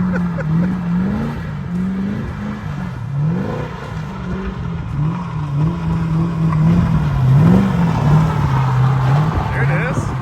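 A car engine drones and revs in waves during drifting, holding a low, wavering hum with rising and falling pitch. A voice talks over it now and then.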